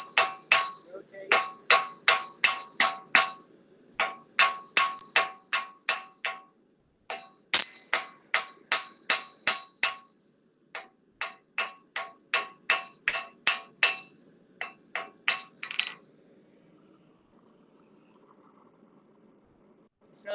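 Rapid bursts of ringing metallic strikes as a coat hanger is hammered to taper it during blacksmithing, sharp clangs in quick groups with brief pauses, clear and close, fading to quiet near the end.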